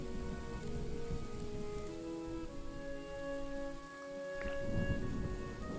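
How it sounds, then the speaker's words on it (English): Steady rain in the video game Pendragon, a continuous hiss of falling drops with a few low rumbles, running alone with no talk. "The rain shows no signs of stopping."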